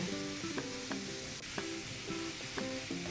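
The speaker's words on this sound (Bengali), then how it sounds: "ভেন্ডিটাকে লাল করে ভেজে নেব" Okra pieces sizzling steadily in a hot pan with salt for Bengali-style bhindi, a dense continuous crackle with a few scrapes, no talking.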